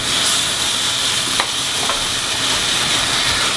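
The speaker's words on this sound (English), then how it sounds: "I'm using a silicone spatula so that it doesn't melt as I'm stirring this up" A silicone spatula stirring seasonings into beef chuck chili, over a loud, continuous sizzle and hiss from the pot, with faint scraping strokes and no talking.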